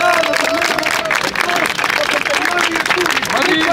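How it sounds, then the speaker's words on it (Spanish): Audience applause rolls through a crowd at the final of a freestyle rap battle, dense and steady for the whole stretch, with voices and tonal sounds mixed in over the clapping. "El último fuerte aplauso por todas y todos los que hacen esto"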